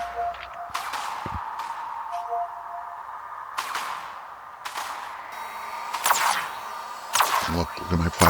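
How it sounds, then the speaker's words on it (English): Plasma cannon fire during Dark Fog combat in the video game Dyson Sphere Program: a series of sharp, crackling energy blasts spaced a second or so apart over a steady humming, beeping game backdrop. "look at my plasma cannon engaged"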